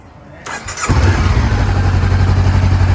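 A 2017 Honda CBR500R motorcycle is started nearby: the starter whirs briefly, then the engine catches and settles into a loud, steady idle that carries on to the end.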